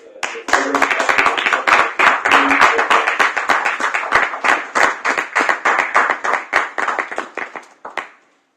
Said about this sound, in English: round of applause to